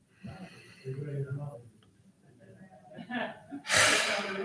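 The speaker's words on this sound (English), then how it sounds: "just breathing in" A person draws slow, deep breaths in through the nose, with soft audible inhales and exhales separated by quiet pauses, followed by a louder rushing breath at the end.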